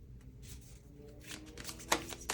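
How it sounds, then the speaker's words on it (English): Tarot cards are shuffled by hand close up, a run of soft papery riffles and flicks with a few sharper snaps near the end, quiet and without talk. "I'm not blowing out these candles, so I'm going to kind of shuffle over here"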